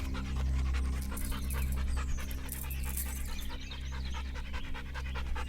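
A dog pants rapidly and steadily, close up, with quick rhythmic breaths over a low outdoor rumble in a suburban neighborhood.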